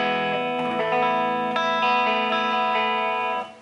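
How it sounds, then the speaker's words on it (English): Sustained notes from a Gibson Explorer electric guitar through a Moog Moogerfooger MF-102 ring modulator into a clean VHT Pitbull 100 head and Orange cab, a metallic, inharmonic warble layered over them, chords ringing on with no voices. "This is the Moogerfooger Ring Modulator"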